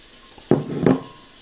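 Water poured into a seed starting tray lands in two short splashing gushes, close and fairly loud, with quiet in between.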